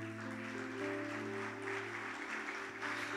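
A church congregation claps for the Lord during a Spanish-language service, a steady wash of applause over a sustained musical backing.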